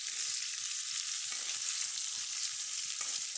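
Onions with ginger and chili for a fish, potato and eggplant curry fry in hot oil, giving a steady, close, bright sizzle that runs throughout with a few soft stirring knocks.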